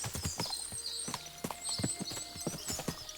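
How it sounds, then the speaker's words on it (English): Several horses clip-clopping in Kingdom Come: Deliverance 2, rapid overlapping hoof strikes close by with occasional jingling tack and faint whinnies in the background. "What a lot of horses"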